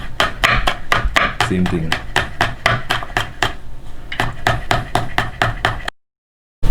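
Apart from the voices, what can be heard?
knife slicing green banana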